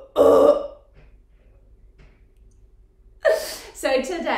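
A person imitating a howler monkey's howl with a burp-like, throaty voiced bellow, two short loud bursts separated by a quiet pause.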